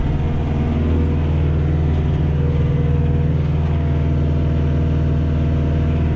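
A Kioti tractor engine labors at a steady, loud drone while skidding a log snagged on a stump in the woods, a continuous low rumble with no letup and no talking.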